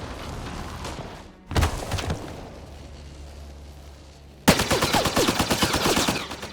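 Gunfire in a Mass Effect Andromeda battle: a short burst, a pause, then a long rapid automatic volley of sharp, loud shots, close and dominant, with no talking.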